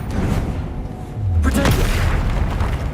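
Explosive spell blasts in the Hogwarts Legacy video game, heavy booming impacts with rumbling low-end tails. They sit under a loud, busy mix of game sound, and a burst hits near the middle.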